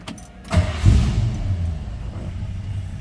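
A 1935 Ford 5-window coupe street rod cranks briefly with a key click, then fires up and settles into a deep, steady, close idle rumble.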